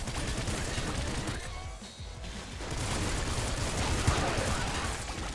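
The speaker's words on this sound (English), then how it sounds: "this jawbreaker with this amount of fire rate is kind of nutty" Jawbreaker shotgun firing rapidly in the game Nuclear Throne, a dense continuous barrage of loud blasts and impacts layered over game sound, with no clear pause throughout.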